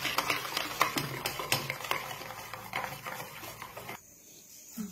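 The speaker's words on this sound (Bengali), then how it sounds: "এবার এই মশলার পেস্টটা আমি ওই দইটার মধ্যে দিয়ে দেব, দিয়ে ওর সাথে ভালো করে আবার ফেটিয়ে নেব।" A utensil stirs and whisks spice paste into yogurt in a bowl, with quick repeated clinking taps and scraping for about four seconds before stopping abruptly, close and alone.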